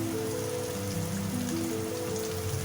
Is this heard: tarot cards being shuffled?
no